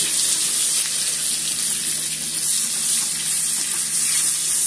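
A salmon fillet, freshly flipped in a hot pan, gives off a steady, close frying sizzle: a continuous bright hiss that never lets up, with no voices over it.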